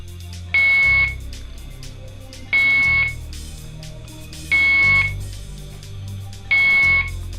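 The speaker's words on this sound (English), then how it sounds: "this beeping noise is a real pain in the ass" Electronic alarm in a waiting area beeps in four evenly spaced, loud, piercing bursts, each about half a second long, over a low background hum with no speech.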